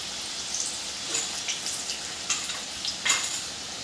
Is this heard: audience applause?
no